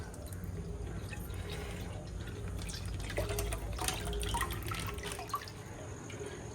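Full-fat milk, one and a half litres, pours into a pot on an unlit stove as the base for palkova, a steady trickling, dripping liquid sound close by with no talking.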